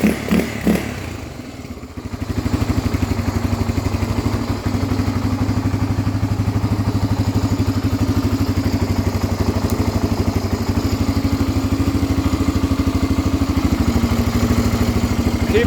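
A vintage barn-find Honda 350X three-wheeler engine catches after a few sputters on its first start and settles into a steady, loud, throbbing idle that runs on without a break.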